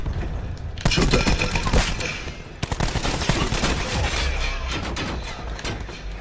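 Rapid bursts of automatic gunfire and sharp shots in the shooter game Black Ops 4, loud and close, coming in dense repeated volleys with a short pause before firing resumes.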